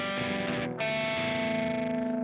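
Electric guitar played with its volume knob rolled well back for a low-gain tone, a sustained distorted chord that rings out, breaks briefly, then rings again and slowly fades.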